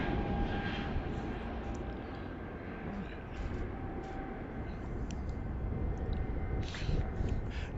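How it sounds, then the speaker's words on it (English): An Airbus A320 airliner at Heathrow Airport gives a steady, broad engine roar that holds at an even level throughout, with no clear change in pitch or loudness. "Yeah, it's an Airbus."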